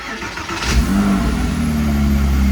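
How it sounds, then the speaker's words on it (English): A 2005 Porsche Boxster S (987) engine cranks and catches, then settles into a steady, close idle hum that continues to the end. "So here comes the true test where we need to actually start the car."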